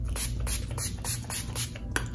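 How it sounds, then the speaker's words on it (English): Short hissing spritzes of a fine mist of cucumber makeup primer water spray repeat in quick succession, close up, with light handling sounds in between. "Now I can go in with the Photo Focus Cucumber Primer Water and just lightly spray."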